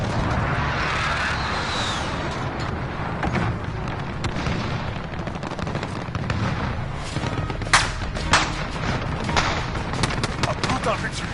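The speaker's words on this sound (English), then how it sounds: "Friendly precision airstrike on the way." Friendly precision airstrike in a video game battle: a dense, continuous barrage of loud explosions and gunfire, with sharper blasts cracking through near the end, under ongoing combat noise.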